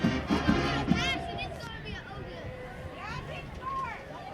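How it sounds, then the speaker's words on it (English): Crowd at a high school football game between Clinton Arrows and Germantown Mavericks, a broad murmur and distant cheering that sits low and steady beneath talk from people nearby. "Good crowd on hand tonight"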